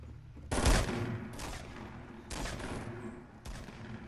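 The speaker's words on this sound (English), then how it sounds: "I know people are shooting." Gunfire from a Fortnite battle royale match, with several sharp, loud bursts of shots at irregular intervals over a steady background of game ambience.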